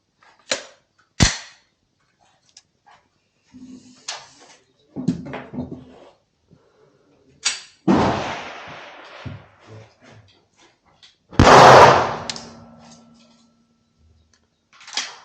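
Glock pistol gunshots at an outdoor shooting range: a string of sharp, loud, close reports at uneven intervals, with handling clicks and brief noisy bursts between shots.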